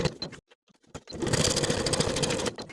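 A sewing machine runs in one steady burst, stitching through all layers to join the facing to the front of an unlined jacket along a 1.5-inch hemline, after a few quiet clicks and handling sounds.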